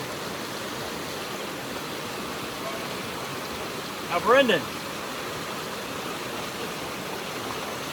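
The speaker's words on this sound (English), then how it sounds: "Back here at the creek." Creek water flows in a steady, even wash that runs unbroken throughout, with a voice speaking briefly near the middle.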